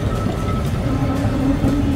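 A single-car Kolkata tram pulls up alongside on a city street, with a steady low rumble of wheels on rails and faint clatter. The sound is close and continuous with no voices.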